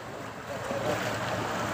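Floodwater rushing steadily in a continuous, broad roar with a windy, washing texture, close and fairly loud, with no clear voices over it.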